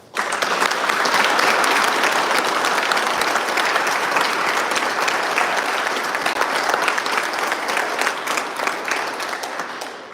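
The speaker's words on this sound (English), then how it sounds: "Let's give them another round of applause." Sustained audience applause at a Maine County Teachers of the Year announcement, dense steady clapping filling the room for about ten seconds before tapering slightly at the end.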